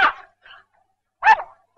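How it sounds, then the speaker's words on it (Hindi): A dog barking close by: two sharp barks separated by a short pause, with a faint whimper between them and no other sound. "ये टॉमी किस पर भौंक रहा है?"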